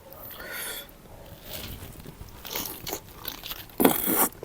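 Close-up bites and chewing of sausage eaten with fresh chilies, soft crunches and moist mouth sounds in uneven bursts, with a louder bite near the end.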